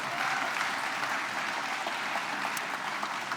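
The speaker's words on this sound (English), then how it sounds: "Round of applause." At a civic leadership academy graduation ceremony, an audience gives a steady round of applause, many hands clapping continuously at an even level with no speech.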